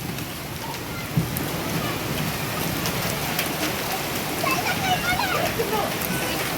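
Steady, dense rain pours down close by with hard pattering of falling hailstones mixed in, continuous throughout.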